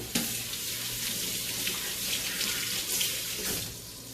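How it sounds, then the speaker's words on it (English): Steady rush of water streaming from a kitchen tap while onions are rinsed for a quick tomato soup, a continuous close hiss with a faint hum underneath and no voices. "I'm going to literally just take the onions and rinse them."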